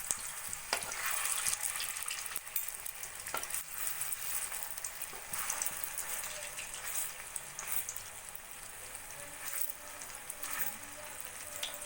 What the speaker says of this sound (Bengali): সোনালি করে পনিরের কোপ্তাগুলো আমি ভেজে তুলে রাখবো।